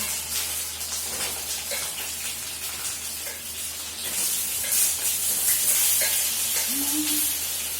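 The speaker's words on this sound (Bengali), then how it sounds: "প্রথমত আমি পটলগুলো ভেজেই নেবো" Pointed gourd (potol) frying in hot oil, a steady hissing sizzle with crackles and occasional stirring, growing louder partway through, with a brief voice nearby.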